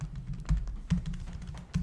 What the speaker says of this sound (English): You can type in an area.